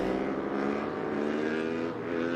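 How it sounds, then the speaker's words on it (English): An Aprilia race motorcycle engine revs hard through a wheelie on a short back straight at a MotoAmerica Twins Cup race in Virginia, holding a loud, steady, buzzing drone for the whole stretch with no talk. "This is going to be quite a big wheelie in this little back straight."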